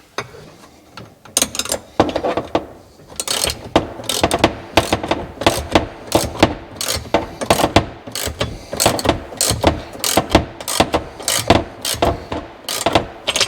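Ratchet wrench clicking in rapid, steady bursts while tightening windshield bolts on a Can-Am Maverick X3, close up and continuous with brief pauses, no talking.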